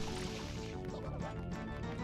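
Water refilling in Super Mario Sunshine, a steady, bubbling, liquid gush with sloshing and dripping layered over game music, continuous and fairly faint.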